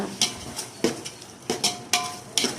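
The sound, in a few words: stirring homemade curd into prawn biryani mixture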